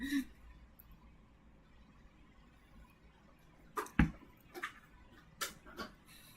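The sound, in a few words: cat clawing things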